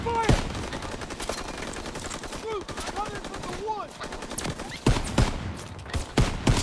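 M1 Garand rifles fire in a Call of Duty WWII campaign battle. Sharp, loud shots snap repeatedly over a busy combat background while voices talk in between.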